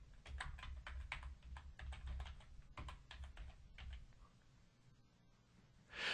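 Fingers type on a computer keyboard in quick bursts of close, crisp key clicks, then pause into near silence before a brief louder noise at the end.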